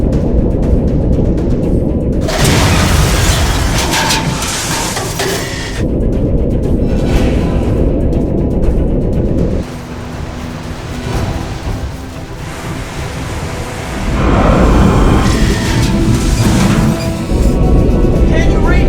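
A torpedo explosion in a sci-fi B-movie about Moby Dick: loud, sustained roaring blasts and rumbling crashes that swell and fade over nearly twenty seconds, with dramatic music and dialogue mixed in.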